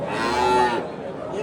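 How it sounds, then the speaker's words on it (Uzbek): Indian breed cow at a cattle market in Andijan gives a single loud, close moo lasting under a second, followed by background market noise. "Hindiston sigiri bolasi buqa."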